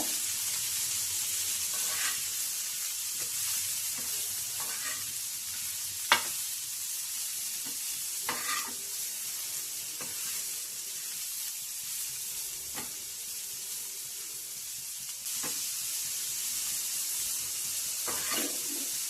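Bitter gourd frying in oil gives a steady, close hiss of sizzling, with occasional stirring scrapes and taps rising briefly above it.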